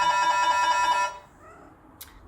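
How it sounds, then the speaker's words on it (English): A doorbell rings in a home with a sustained bright electronic chime lasting about a second, then cuts off into quiet room tone with a faint click near the end. "The doorbell was ringing."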